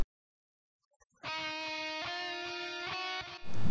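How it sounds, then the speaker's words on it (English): An electric guitar solo runs through a tempo-synced stereo delay at 148 BPM, with one sustained, harmonically rich line and faint repeating echoes, entering after a second of near silence and ending on a burst of noise. "so the stereo delays sound like this"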